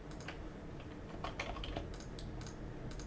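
Keys clatter on a computer keyboard while a range of numbers is entered to generate AprilTags in OpenMV IDE, a steady run of quiet, close clicks over a low background hum.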